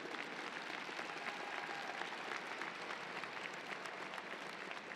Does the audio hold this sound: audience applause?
yes